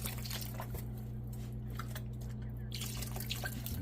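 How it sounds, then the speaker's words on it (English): Liquid beef broth pouring into a pot for oxtail stew, a soft continuous trickle and dribble heard close under a steady low background hum, with no talking. "we're going to add in 2 cups of beef broth"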